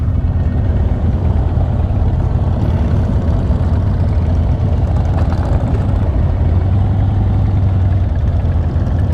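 Chrome-heavy motorcycle engine idling at a military homecoming ride event in Los Alamos, California, a loud steady low rumble throbbing without pause, with faint background noise around it.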